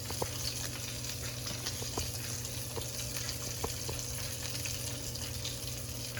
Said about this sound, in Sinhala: ක්‍රිස්පි චිකන් එක දැන් බැද ගන්න තියෙන්නේ.